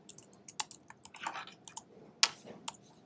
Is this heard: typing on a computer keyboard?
yes